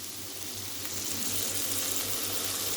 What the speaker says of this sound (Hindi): अब हम इसके अंदर डालेंगे थोड़ा सा पानी,